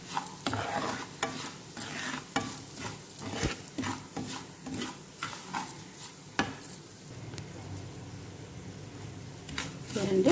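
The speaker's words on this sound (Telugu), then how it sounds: "ఇందులోనే రవ్వ కూడా వేసుకొని మంచిగా ఫ్రై చేసుకోవాలి." Semolina (rava) frying in a pan while being stirred, a quiet dry rustle with regular scraping strokes of a spoon and faint sizzling.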